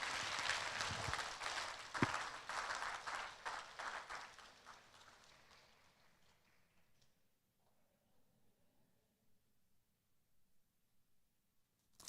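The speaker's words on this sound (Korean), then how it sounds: "큰 박수로 마치도록 하겠습니다." Church congregation applause at a pastor's installation service, a crowd clapping loudly for several seconds, then thinning out and fading away into near silence.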